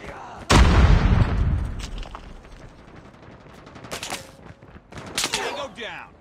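A loud grenade blast in Call of Duty Mobile opens with a sharp boom that rumbles and fades, followed by scattered bursts of gunfire and distant shots, with some voices mixed in.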